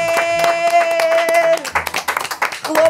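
People clap in a quick uneven burst during a spicy capsaicin gum challenge, the claps ringing over a sustained tone with voices nearby.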